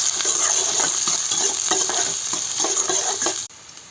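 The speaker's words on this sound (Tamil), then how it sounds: "இதை நல்லா வந்து நான் வதக்கிக்க போகிறேன்." Chopped onion and mustard seeds sizzle loudly in hot oil as a spoon stirs them, a dense steady frying hiss that cuts off abruptly near the end.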